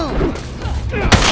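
An enemy gun fires in The Last of Us, a sharp loud blast near the end that follows a stretch of game noise and scattered sounds.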